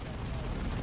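Dense rumbling explosions in the Dawn of War 2 strategy game, a continuous low booming wash of blasts with no clear gaps, moderately loud.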